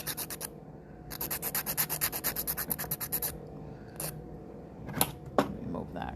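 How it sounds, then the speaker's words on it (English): A nail file rasping across the free edge of a fingernail, close and crisp, in a fast rhythmic run of back-and-forth strokes with a few short separate scrapes before and after. "Filing my free edge."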